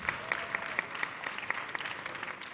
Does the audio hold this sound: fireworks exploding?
no